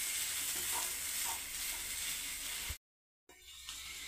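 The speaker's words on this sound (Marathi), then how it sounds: "आणि थोडंसं मिक्स करू अजून." Mirchi vada filling with fresh coriander stirred and sautéed in a pan, a soft continuous sizzle with faint scraping of the spoon, broken by a brief silent gap before the frying hiss resumes more quietly.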